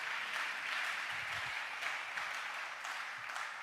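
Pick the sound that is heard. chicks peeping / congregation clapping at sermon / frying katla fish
congregation clapping at sermon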